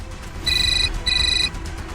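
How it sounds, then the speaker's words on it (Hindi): An electronic phone ringtone sounds in two short bursts of bright, trilling tones, close and clear against a low background hum. "फिर मैंने वेदिका के फोन से दुष्यंत को फोन किया।"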